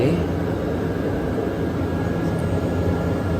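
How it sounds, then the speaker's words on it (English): A propeller airplane taking off, heard from inside the cabin as a steady, loud engine drone and broadband rush with a faint high whine, while a person speaks over it. "This is takeoff."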